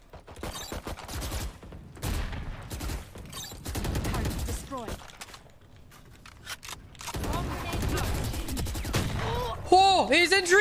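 Valorant gameplay with bursts of gunfire and rapid weapon fire mixed with game sound effects, under frequent excited talking from a player.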